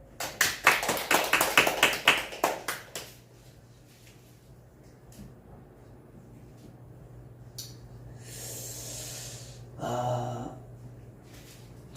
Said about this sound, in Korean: 아멘. 박수.